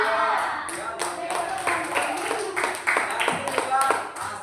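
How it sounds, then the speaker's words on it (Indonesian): Students in a classroom clap for a group's pineapple jam made in a local-tradition lesson, a few scattered, uneven claps mixed with a voice speaking throughout. "Tepuk tangan untuk kelompok 1."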